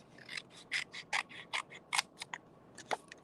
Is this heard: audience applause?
no